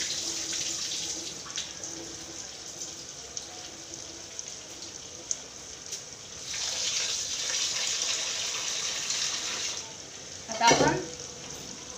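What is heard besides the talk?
onion and tomato frying for masala khichdi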